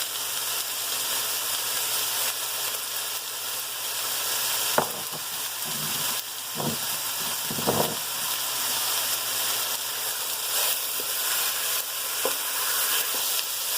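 Ground beef and potatoes sizzle steadily in a hot pan, a dense continuous frying hiss broken by a few scraping stirs of a utensil, close and alone without speech.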